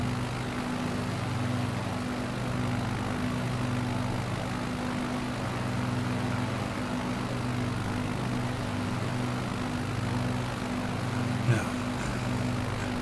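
A propeller airplane engine droning in Microsoft Flight Simulator 2020 on a Nevada bush trip, a steady loud hum with a wavering low tone and a brief click near the end.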